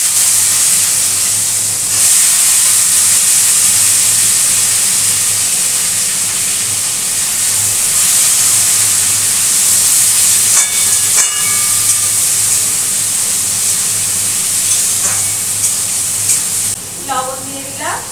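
Vegetables (beans, eggplant and radish) go into a hot pan with frying fish, giving a loud, steady hissing sizzle that continues throughout with a few clinks near the end.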